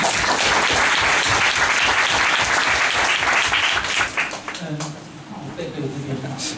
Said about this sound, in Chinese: 我们掌声欢迎翁老师